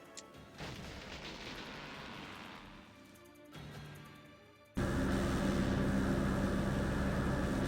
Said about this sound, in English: they're just gonna blindly fire mortars everywhere.